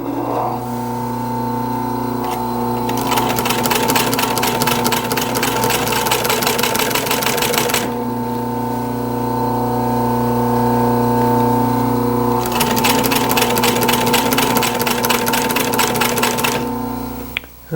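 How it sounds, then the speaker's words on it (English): A sewing machine sews a strong seam with a small stitch on a striped chair cushion. Two sustained runs of fast, even mechanical stitching are separated by a quieter motor hum, close and loud. "I've got my machine set at a relatively small stitch size."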